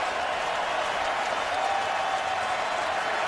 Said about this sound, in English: Fans here trying to cheer on this defense.